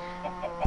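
A chicken in Minecraft gives a few soft clucks, short and close, ending in one slightly louder cluck over a steady background hum.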